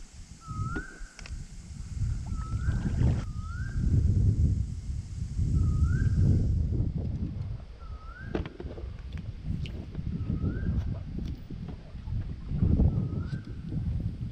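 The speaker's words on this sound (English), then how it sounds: "The wind is not my friend today." Wind buffeting a microphone outdoors while fishing in Central Queensland, with heavy low rumbling gusts through most of the stretch and repeated short rising whistle-like bird calls above.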